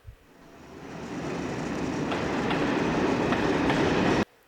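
Train station ambience in Paris with a train rumbling and clattering past, building from quiet to a loud, steady roar with rhythmic clicking of wheels on track, then cutting off abruptly.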